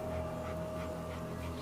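A dog pants continuously at a low level, quick soft breaths under a steady background hum, faint and unbroken throughout.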